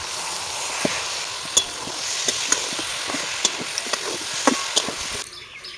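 Egg and vegetable khod frying in a pan, with steady sizzling under scattered sharp clicks and scrapes of a spatula stirring, close and without voices.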